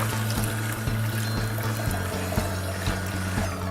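A Kuvings EVO820 juicer runs with water flowing through it for cleaning: a steady close motor hum with regular pulsing, and water sloshing and trickling underneath.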